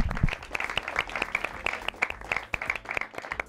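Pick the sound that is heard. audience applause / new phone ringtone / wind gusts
audience applause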